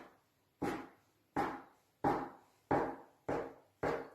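A knife chops potato gnocchi dough into finger-width pieces on a board, six crisp evenly spaced cuts, close and clear with no talking.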